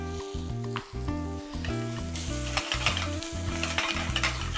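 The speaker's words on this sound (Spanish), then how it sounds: "Dejamos rehogar unos segundos" Vegetables with paprika (pimentón) sautéing over low heat in a pan, a close, continuous sizzle broken by repeated scraping and stirring strokes and light clinks of utensil on pan, without any talking.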